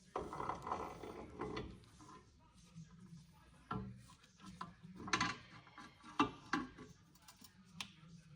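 A banjo bolt is fitted and tightened back onto the rear brake caliper of a 150 Series Toyota Prado, giving scattered close metallic clicks, ratcheting and clunks with quiet gaps between them.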